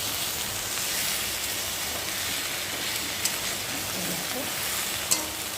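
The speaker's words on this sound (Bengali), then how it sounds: "দেখো বৃষ্টিটা দেখো খুব জোরে বৃষ্টি নেমেছে" Steady, dense hiss of heavy rain falling outside, continuous and even, with a couple of faint clicks; nobody speaks.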